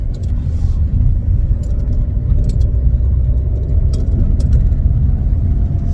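A car engine freshly brought out of storage runs at a steady idle close by, its low, even rumble continuous throughout, with faint ticking clicks on top.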